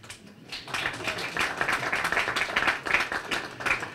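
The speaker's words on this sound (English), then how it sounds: "Give yourselves a round of applause." Audience at a community forum on counterterrorism applauds with dense, steady clapping that builds within the first half second and holds at moderate loudness throughout.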